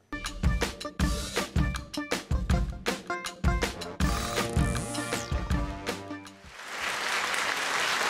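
A late-night studio show's audience bursts into a broad wash of clapping that swells and holds at the end, right after a loud drum-driven music sting.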